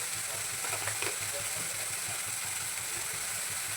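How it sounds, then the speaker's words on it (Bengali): Spice paste (masala) for kalai dal paturi frying and being stirred in a pan, giving a steady broadband sizzle and hiss throughout with faint clinks of stirring. "মশলাটা খুব ভালো করে কষিয়ে নেব।"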